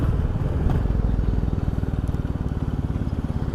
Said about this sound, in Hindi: ये मैं इंजन ब्रेकिंग का यूज़ करके बाइक को रोक रहा हूँ।